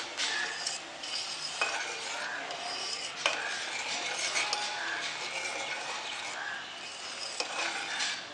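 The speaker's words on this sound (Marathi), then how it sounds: "आता हे आपण छान असं मिक्स करून घेऊया." A spoon stirs a mixture of milk, charoli, pistachio powder and cardamom powder in a pan over a low flame, with steady scraping strokes and light clinks repeating throughout, quiet and close, without talk.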